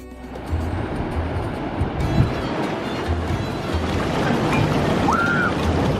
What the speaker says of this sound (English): The majestic Ozoud waterfalls are located near the Moya Atlas village of Ta Nagamelt in the province of Azilil.